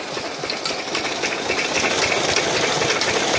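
A gas-powered engine driving a farm water pump runs steadily outdoors, a continuous rattling drone with a rough low throb and no speech over it.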